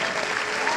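A concert audience applauds steadily and loudly throughout, a dense wash of clapping with no breaks, at a show.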